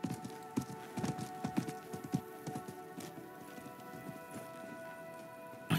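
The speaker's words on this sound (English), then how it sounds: "I think that was the merchant's horse." Steady clip-clop of horse hooves trotting at a quick rhythm, with a faint whinny, over a soft game-like ambient backdrop, in the video game Diablo IV.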